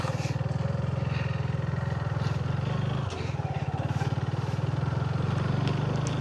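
A motorcycle engine hums steadily and fairly loud while riding along a rural road, with a brief dip in the middle before the engine drone carries on.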